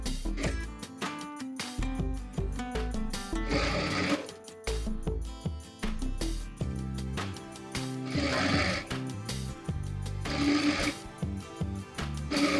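A sewing machine runs a stitching line along a Patiala salwar hem, its rapid rhythmic needle thumps starting and stopping in short bursts, close and prominent.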